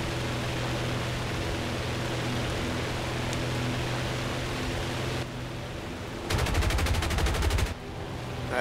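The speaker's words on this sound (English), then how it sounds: "That's four guns right there" Video game gunfire: a steady noisy roar of rapid shots for several seconds, then a brief louder burst of fast, evenly spaced rattling fire before a quieter tail, with no talking.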